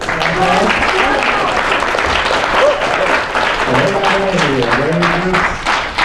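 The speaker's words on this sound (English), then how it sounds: "So give them a round of applause, please." A crowd applauds loudly and steadily for several seconds, with voices mixed into the clapping.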